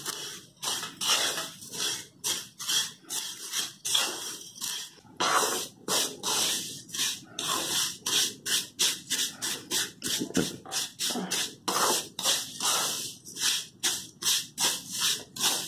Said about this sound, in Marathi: तुपात शेवया घालून घ्या आणि छान लालसर भाजून घेऊया.